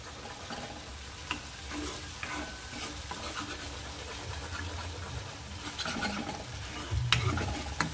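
Soya chunks stirred in a pan of masala for a soybean curry, giving a continuous soft scraping and wet sizzle, with a louder clatter of the spoon near the end.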